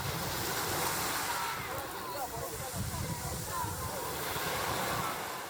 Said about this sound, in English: Particular joy is provided by the waves near the shore, in which it is very pleasant to splash.